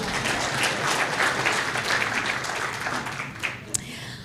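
An audience at an International Women's Day 2024 event breaks into sustained applause, a dense steady wash of many hands clapping that trails off near the end, with no talking over it.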